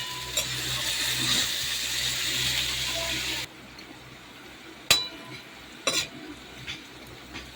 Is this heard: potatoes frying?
yes